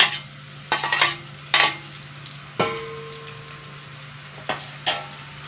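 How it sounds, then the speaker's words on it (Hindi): Finely chopped onion paste fries in a pan, giving a steady background sizzle with several sharp scrapes and clanks of a utensil against the pan, close and with no talking. "अब हम इसके अंदर प्याज डालेंगे, बारीक कटा हुआ, उसका पेस्ट बनाया था।"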